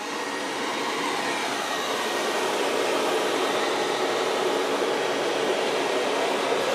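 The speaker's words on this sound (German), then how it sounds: "Vorne staubsaugt er. Und hinten wischt er." A Bagotte BL509 robot vacuum and mop runs with a steady, even whirring drone, vacuuming at the front and wiping behind, heard close and alone without interruption.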